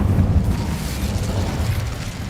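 Incendio fire spell blast in Hogwarts Legacy, a sustained low, rumbling whoosh of flame that holds steady and fairly loud for a couple of seconds with no talk.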